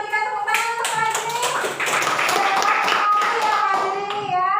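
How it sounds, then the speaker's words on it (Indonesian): Classroom applause for a student, a group of children clapping together in a steady patter, with faint voices and tonal sounds layered over the clapping. "Kita berikan tepuk tangan untuk Fajri."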